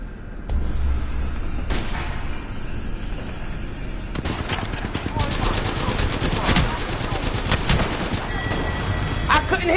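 Shotgun gunfire in a video game: a dense, continuous wash of game noise carries repeated sharp blasts and rapid crackling shots, loudest in the middle, with no clear pauses.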